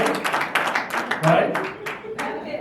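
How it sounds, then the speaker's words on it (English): Brief burst of audience clapping at a stand-up comedy show, scattered claps mixing with laughter and chatter, fading after a couple of seconds. "give her a round of applause"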